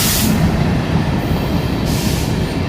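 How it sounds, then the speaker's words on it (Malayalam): A train rolls past close by on the line toward Trivandrum South, a loud, steady rumble of wagons and wheels on the rails with bursts of hiss, no voices. "ഇതാ ട്രെയിൻ വീണ്ടും സൗത്ത് ഡയറക്ഷനിലേക്ക് നോർത്തിൽ നിന്നും കടന്നു വരുന്നു."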